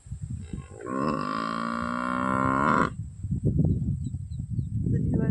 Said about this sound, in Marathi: म्हशीचं चालू आहे ओरडणं